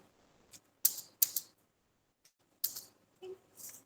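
Keys on a computer keyboard are tapped in short bursts while a quantity is entered in an Excel sheet, a few sharp close clicks separated by pauses.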